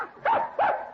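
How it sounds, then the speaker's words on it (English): Puppies whimper in an old-time radio drama, two short high yelping whines about a third of a second apart, close and fairly loud, with no talking over them. "Puppies, Dollar."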